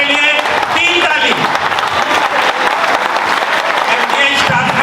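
Audience at a solar products exhibition in Delhi applauding the staff, a sustained burst of dense clapping from a fairly large crowd, with a voice speaking briefly at the start.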